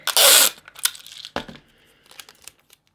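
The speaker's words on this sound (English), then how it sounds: "I'll just put a little bit of sticky tape on the back" Sticky tape being pulled and torn for a papercraft project: a sharp, loud rip at the start, then a second short tear followed by soft crinkling and small handling sounds, close up.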